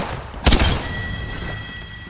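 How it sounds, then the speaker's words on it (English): A grenade blows up in a PUBG-style battle royale shooter as a single dull, broad boom that swells and then fades into a steady background hum. "Throw my grenade out."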